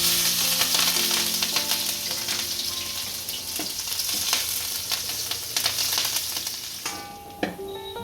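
Green chillies frying in hot oil after cumin seeds have been toasted, for sago khichdi, give a loud, steady sizzle with crackling pops and occasional stirring clinks throughout, without any talk.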